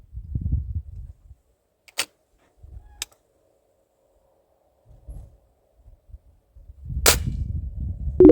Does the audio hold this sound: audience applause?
no